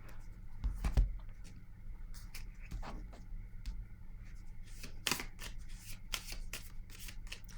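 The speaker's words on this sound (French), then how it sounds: "Je vais déposer une autre carte ici." Tarot cards handled and laid down on a table during a quiet card reading: soft papery slaps and brief shuffling flicks, close and faint, scattered across the stretch with no talking.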